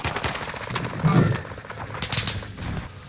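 Rapid gunfire in Call of Duty: Warzone on Rebirth Island, with bursts of automatic shots crackling at moderate distance over a busy battlefield background.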